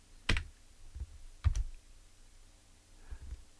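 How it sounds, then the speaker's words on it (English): Keys tapped on the keyboard of a homebuilt 6802 computer: two sharp, fairly close clacks a second apart, then a softer tap and a faint late click, with quiet room hiss between them. "all I have to do is tap the Z key, and it goes directly to a loader, puts it in memory, and then I can type G to get it going"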